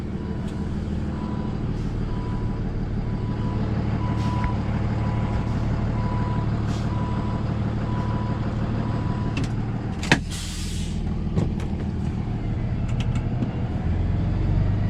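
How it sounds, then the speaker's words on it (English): A small tow truck backs into a tight corner, its reversing beeper sounding in a steady, evenly spaced series over a continuous engine rumble, with a brief clank partway through. "I can get backed up to this thing."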